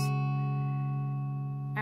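A sustained electric guitar chord from a song rings out steadily and alone, a clean held chord with a short noisy attack at the start and another pick stroke at the very end.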